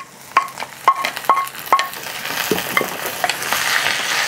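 Tomato is dropped onto fried onion in a pan and stirred, giving a run of sharp spoon-against-pan clinks followed by a rising, steady close sizzle, with no talking.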